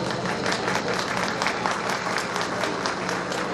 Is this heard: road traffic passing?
no